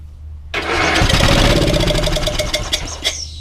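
A riding lawn mower primed with brake cleaner cranks and fires after a half-second of near silence, catching into a loud, rough, sputtering run that surges and stumbles close to the listener before settling into a choppy idle.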